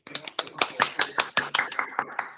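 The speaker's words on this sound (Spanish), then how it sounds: "un aplauso para ellos" Sparse applause rings out at a conference lecture, a small group clapping unevenly in quick, sharp claps for a couple of seconds, close and distinct.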